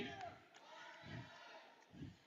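Crowd in the stands at a robotics competition shouting and cheering in short swelling bursts, moderately distant, mixed with voices over a steady hall ambience.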